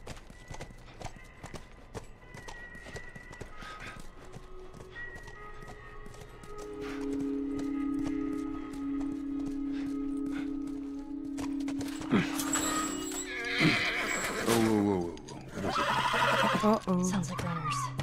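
Horse in The Last of Us Remastered video game: steady clip-clop of hooves with a loud whinny partway through, all over ongoing dialogue and background game sound.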